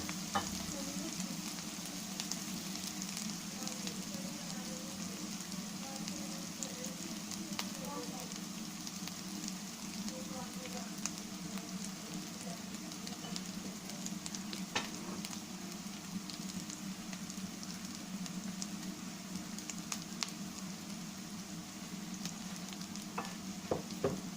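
Mushrooms sautéing in a pan for mushroom butter masala give a faint, continuous low sizzle with occasional soft stirring clicks, quiet and steady throughout with no voices.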